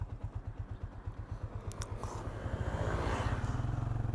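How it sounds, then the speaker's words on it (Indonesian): A motorcycle engine starts and runs on a rural village road, a close low thumping idle with steady rhythmic pulses that thicken and rise slightly toward the end, with no talking. "Sebentar, motor saya hidupin dulu ya."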